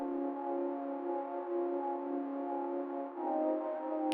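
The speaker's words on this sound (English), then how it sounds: "And then I added the low pads." Low synth pads in a techno remake, tuned down to sound darker, hold a steady, sustained drone. The tone shifts slightly near the end, and nothing else plays over it.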